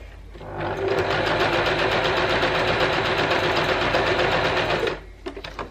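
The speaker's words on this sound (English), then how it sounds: "And then we're going to run a straight stitch line just to seam that down." A sewing machine stitches a straight seam on a fabric face mask, a steady, loud, close mechanical whirring hum lasting about four seconds before stopping abruptly, with no talk.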